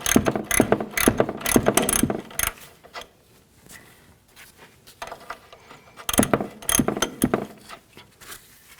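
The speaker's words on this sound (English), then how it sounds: "You can use a 21mm wrench on the end of that." A 21mm ratchet wrench clicking on a control arm bolt of a 1999-07 Chevy Silverado 2500, two close bursts of rapid ratcheting clicks separated by a quieter pause, no speech.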